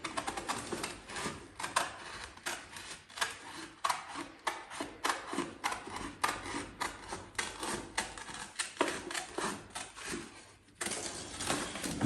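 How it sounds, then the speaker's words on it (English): Scissors cut along a line on a stair runner template, a rapid series of close crisp snips and paper crunches repeating steadily, then a short pause near the end. "You see the line you're following with the scissors."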